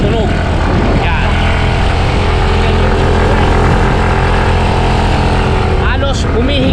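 A Yamaha Mio Gear 125 scooter engine pulls steadily up a hill with a loud, continuous drone, and a brief voice cuts in near the end.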